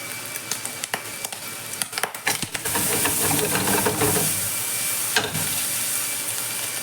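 Squid frying with coconut pops in scattered sharp bursts as its water cooks off in a hot pan, then gives way to a loud, steady frying sizzle with occasional louder bursts.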